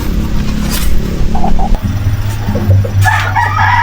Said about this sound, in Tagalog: Goodbye chicken.